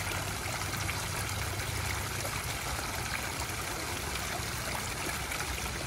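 Water pours steadily over a backyard garden waterfall, the louder of two, heard from about two feet away as a constant, even rushing and splashing with no breaks.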